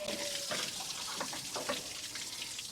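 Coolant pouring out of a removed bottom radiator hose on a car during a transmission pull, a steady close splashing liquid stream running continuously.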